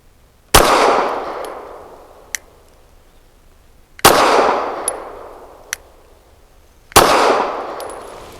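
Three loud gunshots from a Sig P365 XXL pistol fitted with a Maskas Precision slide and a 4-inch barrel fire a few seconds apart, each a sharp crack with a short decaying tail, with faint clinks between shots.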